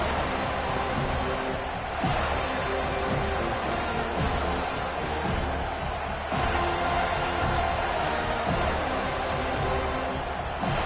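A stadium crowd in a Madden football video game keeps up a steady, broad roar throughout, with a commentator talking over it.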